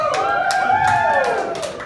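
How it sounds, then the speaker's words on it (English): Single audience members at a live show applaud on request, with scattered clapping beneath loud, sweeping whoops and cheers from the crowd. "now go ahead and applaud if you're single"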